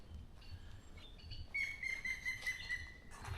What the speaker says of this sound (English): That might be the woodpecker